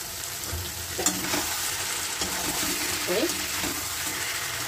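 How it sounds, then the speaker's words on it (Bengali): Boyal fish pieces fry in a pan with tomato and masala, giving a steady, close sizzle with occasional stirring scrapes throughout. "একটু কষিয়ে নেব, 8 মিনিট মতো মাছটা এই মশলার সাথে কষিয়ে দিতে হবে।"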